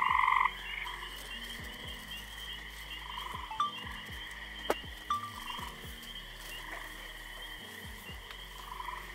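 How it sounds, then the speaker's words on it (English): Gray tree frogs and green frogs croak together in warm summer breeding water at a carnivorous plant nursery, a steady chorus of trills with scattered louder single calls close by, and no voices. "This is the gray tree frogs and green frogs."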